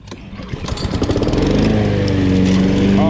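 Honda GCV170 lawn mower engine, on a Honda HRN216VKAA mower, pulled to start and catching, then building from uneven sputtering into a steady, loud close-up running drone with no talk.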